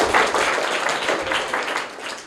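Classroom applause at a private school quiz, a dense steady burst of many students clapping together for a correct answer, fairly loud and continuous.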